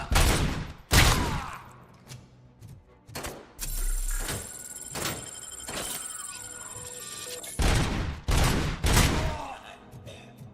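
Bursts of gunfire in the video game RoboCop: Rogue City, loud, rapid volleys in repeated clusters, with clanking mechanical impacts between them.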